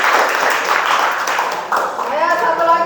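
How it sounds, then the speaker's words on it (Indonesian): Classroom applause for a student group rises briefly, a patter of students clapping heard alongside talking voices that stay prominent throughout. "Kita beri tepuk tangan dulu untuk kelompok 4."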